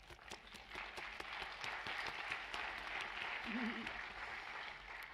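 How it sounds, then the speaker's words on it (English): An audience applauds steadily, many hands clapping in a dense, continuous patter that holds for several seconds. "Thank you for clapping"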